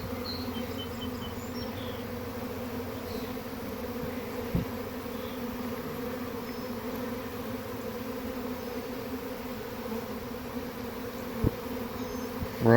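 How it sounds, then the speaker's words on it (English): A honeybee swarm buzzes in a steady, dense hum all around, close and moderately loud, with a couple of brief knocks and no talking. "As you can see, we're in the middle of the swarm."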